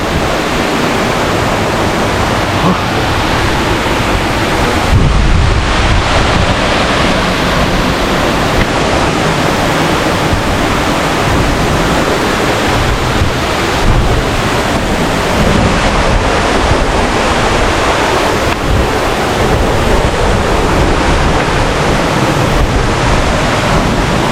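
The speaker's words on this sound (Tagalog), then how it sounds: "Dito tayo sa paanan mismo ng falls." Hulugan Falls in Luisiana, Laguna, roars as a loud, steady, unbroken rush of water heard from right at the foot of the falls, with wind buffeting the microphone and no voices.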